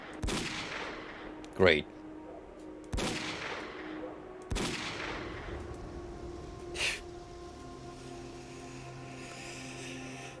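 Sharp gunshots from the shooter game S.T.A.L.K.E.R.: Call of Pripyat, set in urban exploration: three loud single shots spaced a second or two apart, then a fainter report, over a steady low ambient hum, with brief speech.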